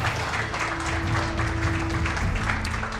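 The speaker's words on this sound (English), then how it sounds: "How about a round of applause for our fine ping pong contestants tonight?" A crowd at a live clubhouse event for the Packers applauds ping pong contestants, a dense, steady roar of clapping with heavy low rumble and a faint sustained tone running through it.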